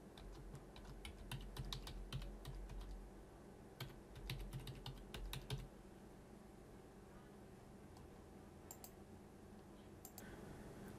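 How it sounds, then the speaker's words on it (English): A username and password being typed on a computer keyboard while installing tax software gives bursts of quick, faint key clicks in a steady stream, pausing and then resuming briefly against a constant background hiss. "Now let's just type in our username and password."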